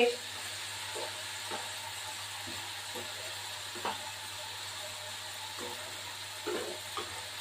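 Potatoes frying in a pan give a steady, moderate sizzle close by, with a low hum underneath and occasional soft knocks and stirring scrapes breaking through at irregular intervals.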